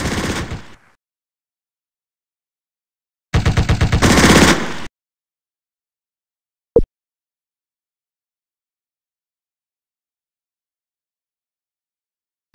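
Bursts of gunfire in a Stalingrad war video game: a loud rapid automatic volley at the start, a second longer burst a few seconds later, then a single sharp shot, with near silence between.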